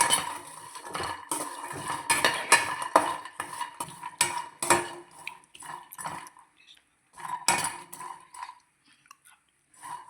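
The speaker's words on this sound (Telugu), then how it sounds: "అందులోనే కాజు, తర్వాత వాల్నట్ 3 వేసుకొని దూరగా వేయించుకోవాలి" Cashews and walnuts are stirred while dry-roasting in a pan, giving a stream of close scraping and rattling clatters in uneven bursts, with a few quiet gaps between them.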